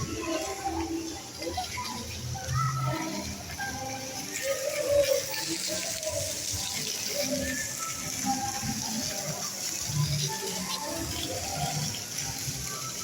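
Water runs and splashes steadily at a scenic outdoor spot, a constant moderate wash with faint voices in the background.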